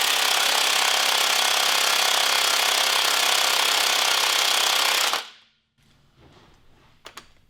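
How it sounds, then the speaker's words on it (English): A running BMW M20 engine gives a loud, harsh, rapid mechanical clatter up close for about five seconds. It then cuts off abruptly, leaving faint handling noises and a couple of small knocks. "if you want to see what a BMW engine looks like when it's rotating while it's running"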